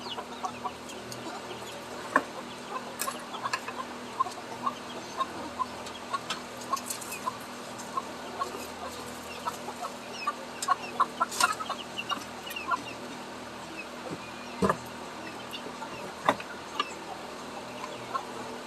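A backyard flock of chickens and roosters clucks and murmurs in scattered short calls, some near and some farther off, over a quiet outdoor background with no talking.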